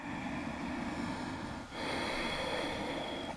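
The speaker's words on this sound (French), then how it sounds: "Installez de profondes respirations." Deep, slow breathing during a static yoga pose, with steady close breaths of air that pause briefly midway and then resume, heard alone without talk.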